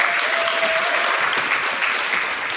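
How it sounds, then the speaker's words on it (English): Sustained applause from an audience honoring Rebecca's speech about achievement against child marriage at a Girls in Action event in Tanzania, a steady dense clatter of clapping hands filling the whole moment without pause. "let's give Rebecca another round of applause"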